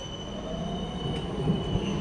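A Melbourne tram rolls through the city centre with a steady rumble and rail noise. It sounds near and continuous, with a faint squeal of wheels on the tracks.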